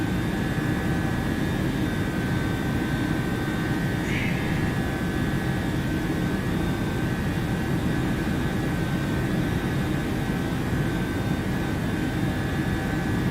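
Jet engines of a PMDG Boeing 737-800 climbing in Microsoft Flight Simulator on a Ryanair flight, a steady loud cockpit roar with a constant whine and no breaks.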